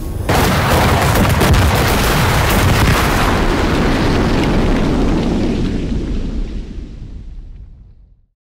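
A loud, sustained explosive blast of enemy fire from anime Heavy Object, a heavy booming roar that rumbles continuously for several seconds before slowly fading out.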